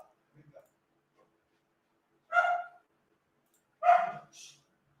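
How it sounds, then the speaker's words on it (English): A small pet dog barks twice indoors, two short separate yips a second or so apart, moderately close, with faint rustling before and no talking. "I'm sorry about my doggy."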